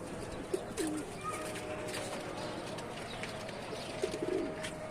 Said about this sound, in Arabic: هما حمامتين باينين هم رجاله